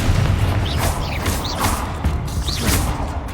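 Confringo blast spell from Hogwarts Legacy: a string of crackling magical bursts and booms over a steady rumbling game background, fairly loud throughout, with no voice.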